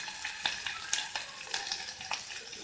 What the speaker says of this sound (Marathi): आणि आता हे मी छान परतून घेते. कांदा मऊ होईपर्यंत परतून घ्यायचं आहे.